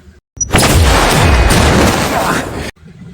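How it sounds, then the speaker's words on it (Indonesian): A bomb explosion in a Korean drama thunders loud and close, a sustained booming blast with rumbling debris lasting over two seconds before cutting off abruptly. "bom juga meledak saat Songju mengenai sensor"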